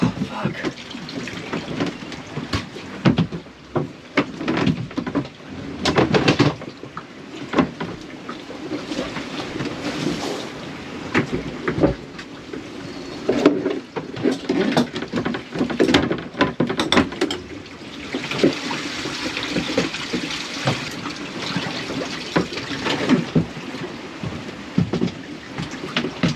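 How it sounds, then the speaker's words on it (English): Heavy seawater washing and sloshing over the deck of a 30ft sailboat at sea during a long solo ocean passage, with repeated surging bursts of water and spray, close and loud, mixed with wind and brief voices. "We just got a massive amount of water."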